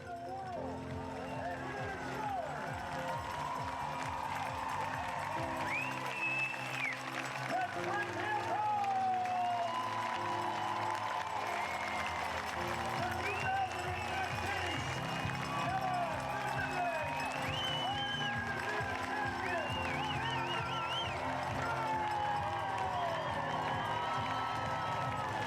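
Kiwi crowd on its feet cheering and applauding at the Ironman New Zealand finish line as the winner sets a record, a steady roar of claps and shouts throughout with a commentator talking over it.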